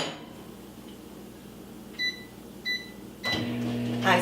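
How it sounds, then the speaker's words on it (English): Two short electronic beeps from keypad presses, then the steady hum of a microwave oven starting up and running. "So let me get this in the microwave."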